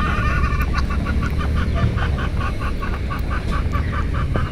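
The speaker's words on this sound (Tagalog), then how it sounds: "May mga naririnig akong manok." Chickens cluck in rural countryside near Tagaytay, repeated rhythmic clucking calls standing out over a loud, steady rumble of wind or outdoor noise.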